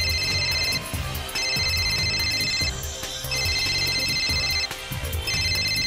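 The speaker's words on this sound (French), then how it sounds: "Allez, Yumi, décroche" A cartoon telephone rings in repeated electronic trills, bright and insistent, with short breaks between bursts over faint background sound.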